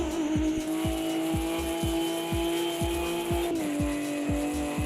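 Race car engine in Automobilista 2 sim racing, a loud sustained high-pitched whine with a rhythmic pulsing underneath and a dip in pitch near the end, tire squeal mixed in, no talking.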